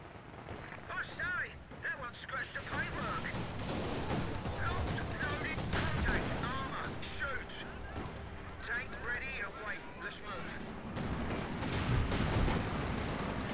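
Tulip rocket artillery firing in Company of Heroes 2, a dense continuous barrage of launches, bangs and explosions layered with battle gunfire, loud and steady throughout with game voices mixed in.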